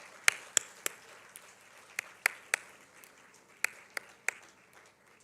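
Scattered single claps ring out sparsely and unevenly, about a dozen sharp hits spread across a few seconds, fairly close over a quiet room background as an audience welcomes children.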